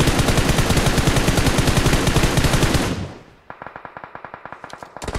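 Rapid, dense machine-gun fire from the video game PUBG Mobile rattles loudly for about three seconds. After a brief drop, it resumes as a steady run of evenly spaced single shots.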